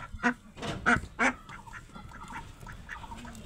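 Ducks quacking as they are let out of their pen where they lay eggs, three loud nearby quacks followed by softer scattered calls, no talk.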